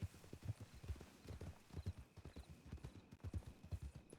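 A horse canters in the western roleplay game RedM, its hooves drumming a quick, rhythmic three-beat clip-clop on the ground, fairly close and continuous, with no talking over it.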